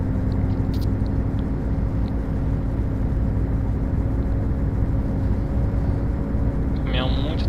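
A Scania truck in Euro Truck Simulator 2 drones with a steady low engine hum and faint tonal whine, constant and even throughout, with a brief higher chirp near the end.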